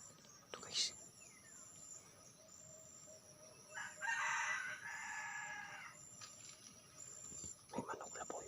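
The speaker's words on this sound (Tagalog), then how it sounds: "May manok labuyo dito guys." A single crow from a wild junglefowl carries through the forest at moderate distance, a sustained call of roughly two seconds against a constant insect drone, with brief knocks and rustles around it and no voices.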